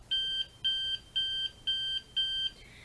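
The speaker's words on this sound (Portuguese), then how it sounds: "Se eu quiser fazer um bip rápido, vou tocar rapidamente" Five short, evenly spaced electronic beeps from a Morse code buzzer, clear and high-pitched, each about a third of a second, with nothing else around them.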